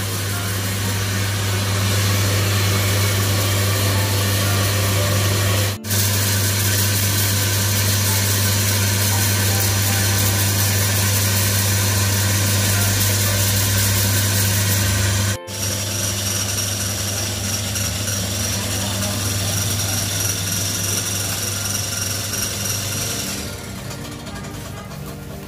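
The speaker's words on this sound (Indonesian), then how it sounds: "Sekarang Adik sedang menyiapkan alat mesin giling." A coffee grinding machine grinds roasted Arabica Gayo Toraja beans in a coffee shop, giving a loud, steady mechanical drone with a strong low hum that runs nearly unbroken, with two brief dips and a slight fade at the end.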